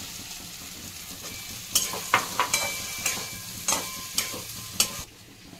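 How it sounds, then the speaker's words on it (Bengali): Potatoes stir-fried in spiced oil for Bengali badam aloo, a constant sizzle under repeated sharp scraping strokes of a spatula against the pan, about eight stirs in a loose rhythm, close and clear with no talk. "এখন আমি আলুটা দিয়ে একটু কষাবো, কষিয়ে নিয়ে জল দিয়ে দিব"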